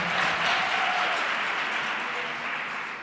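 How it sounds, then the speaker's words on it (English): Sustained audience applause from a school gathering at a learner-led dialogue event, loud and even with dense clapping throughout, with crowd voices faintly mixed in. "Please give yourselves a round of applause."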